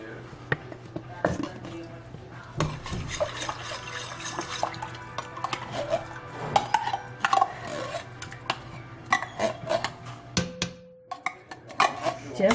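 Canned soup is dumped into a pot and stirred, with wet sloshing, dripping, and clinks of a utensil against metal, close by, while a person talks in the background.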